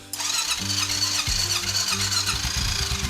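A Suzuki Vinson ATV engine runs close to the microphone, a loud, uneven idle with revving bursts and a squealing, whining tone throughout, with no talking.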